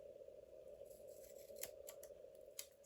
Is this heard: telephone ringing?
no